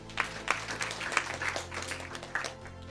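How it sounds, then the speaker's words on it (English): A small crowd at a live high-ticket sales role-play training event claps. The applause is moderately quiet and uneven, with a few sharper claps standing out, over a low background hum. "Applause."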